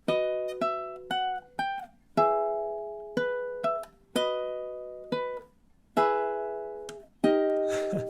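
Ukulele playing measures 12 and 13 of the Luigi's Mansion main theme: a quick run of crisp plucked notes and strummed chords at a moderate pulse, each ringing briefly before the next, close and clear with no talking.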